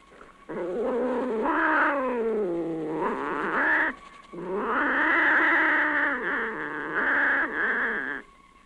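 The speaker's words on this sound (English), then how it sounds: "Does she have all the instincts of a cat?" A cat gives long, drawn-out wailing meows in two extended bouts separated by a short pause, loud and close with no talk.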